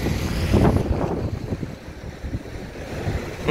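Strong wind buffeting the microphone at an outdoor bus stop, a rough roaring rumble that gusts hardest early and stays loud throughout with no voices.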